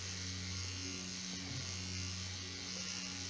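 Electric clippers shave a balding man's head at home for a buzz cut, giving a steady, close, continuous buzzing hum with a low drone, running unbroken throughout with no talking.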